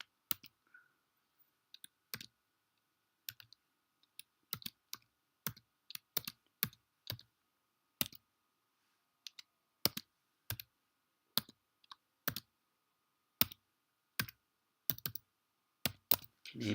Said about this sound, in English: you can hear me typing now